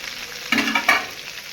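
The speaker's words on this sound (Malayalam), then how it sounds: "ഇതേ സവോള ഇട്ടു, പച്ചമുളക് ഇട്ടു, കരിവേപ്പില ഇട്ടു." Sliced onion, green chilli and curry leaves frying with browning coconut in a pan for pork curry, a close, steady sizzle broken by two louder bursts as they are stirred.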